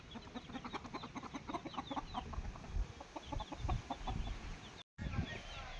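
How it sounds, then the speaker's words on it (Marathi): Free-range desi village chickens cluck repeatedly in quick, overlapping bursts at close range, a steady flock chatter with a brief dropout near the end. "असे फ्रेश गावरान कोंबडे सुद्धा इथे विक्रीसाठी आहेत"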